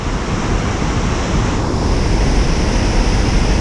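Franklin Falls waterfall roaring nearby on an autumn hike amid mist, a dense, steady broadband rush that stays loud and unbroken with no voices.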